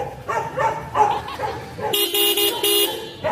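A Tela brand horn fitted to a Honda Dax ST125 motorcycle gives several loud, close toots in quick succession, following a stretch of background chatter and a dog barking.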